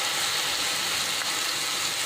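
Onion, ginger, garlic and cashew paste fries in oil in a pan with a steady, close, bright sizzle that holds constant and loud, with no talk over it.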